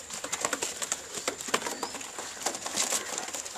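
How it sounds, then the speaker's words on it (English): Pigeons released for a training flight at the start of a new racing season, heard as soft, irregular fluttering and pattering wingbeats with faint bird calls, fairly close and continuous. "I'm letting the birds off and go a little more behind, otherwise you won't catch."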